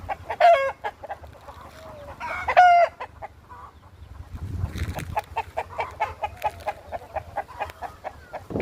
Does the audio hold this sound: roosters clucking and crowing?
yes